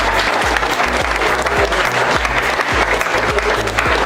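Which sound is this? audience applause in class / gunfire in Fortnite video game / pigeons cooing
audience applause in class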